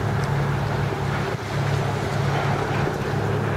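Steady wind and rolling surf wash continuously onto a foggy beach, a broad, even roar with no pauses and no voices.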